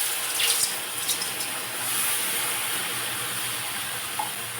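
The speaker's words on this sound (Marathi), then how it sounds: "तर आता काय करायचं, यामध्ये पाणी घालायचं आहे." Water is poured into a pan of roasted semolina, a steady close hissing gush that settles into a continuous sizzling steam, heard alone without talk.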